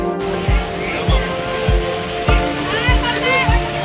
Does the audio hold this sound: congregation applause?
no